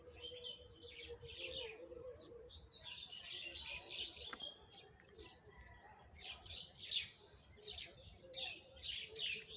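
A bird sings in a tree outdoors in nice weather, a steady stream of high chirps and tweets repeating throughout, fairly close over a soft background hum.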